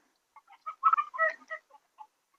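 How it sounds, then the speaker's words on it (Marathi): Desi chickens clucking on an open farm, a short burst of several quick, nasal clucks and a brief squawk close by, with quiet between calls and no talking. "कोंबड्या असं मोकळ्या वातावरण फिरू शकतात"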